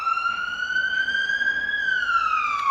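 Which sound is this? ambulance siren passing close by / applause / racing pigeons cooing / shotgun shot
ambulance siren passing close by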